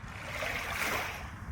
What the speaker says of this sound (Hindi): आपको शायद बैकग्राउंड में कुछ फैमिलीज़ की आवाज़ आ रही होंगी और बीच के पानी की,